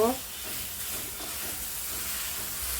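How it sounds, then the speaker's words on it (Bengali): Coconut filling for ros puli cooks in a pan, giving a steady, soft sizzling hiss as it is stirred, quiet and continuous throughout. "নেড়ে ছেড়ে পুর তৈরি করে নিচ্ছি।"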